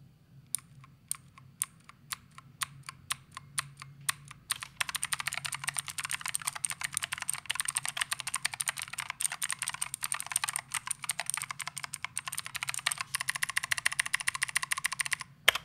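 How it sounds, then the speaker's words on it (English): Typing on a DK63 budget mechanical keyboard with clicky blue switches: sparse single sharp clicks at first, then a fast, dense run of crisp clacking keystrokes, close and alone. "Coming back to the blue switches, I've actually always wanted to try them. They're clicky, loud, obnoxious, but they're pretty fun to use."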